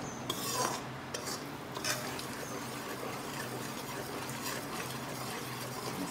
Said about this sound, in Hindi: आटे को हिलाते जाइए